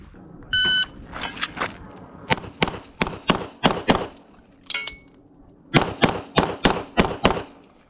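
Rapid pistol shots from a Walther Q5 Match steel frame handgun during an El Presidente drill, loud sharp cracks in quick bursts of two and three, with a brief electronic timer beep at the start and a pause mid-string.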